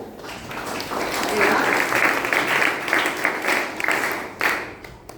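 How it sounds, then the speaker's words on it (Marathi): An audience at a festival talk event claps in sustained applause that swells and holds, then tapers into scattered claps near the end. "तुम्ही स्वतःहून टाळ्या वाजवल्या म्हणून"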